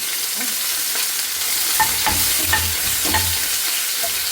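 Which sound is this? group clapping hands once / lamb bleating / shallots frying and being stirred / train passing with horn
shallots frying and being stirred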